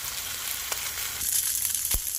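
A macaroni and cheese sandwich fries in a skillet with a steady crackling sizzle that swells slightly midway, plus a couple of soft knocks, heard alone without speech.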